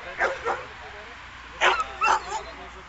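A small dog gives several short yips and barks in two pairs, close and fairly loud, over quiet room background.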